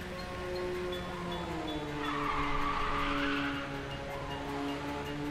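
A car drifts in the racing video game Ridge Racer 6 on its final lap, tires skidding in a long sustained squeal over the engine's whine and driving music, with no voices.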